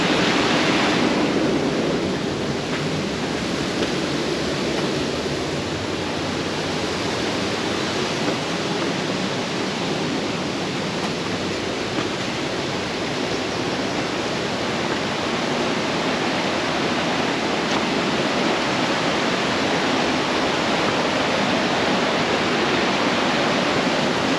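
A creek in the Sunol Wilderness rushes loudly and without letup, its close, dense broadband flow filling the whole stretch with no other sounds rising above it.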